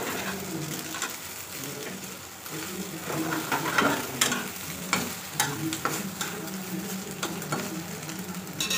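An egg fries in a pan with a light, continuous sizzle and occasional scraping stirs, while birds coo faintly in the background.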